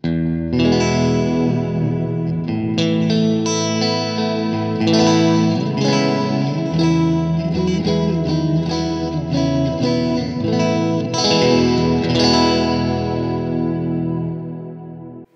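A Stratocaster plays a clean tone through an Orange Rockerverb MK3 amp with Skylar reverb and Keeley Halo pedals. Chords and notes ring out loud and steady for about fifteen seconds, with a lush, echoing reverb wash.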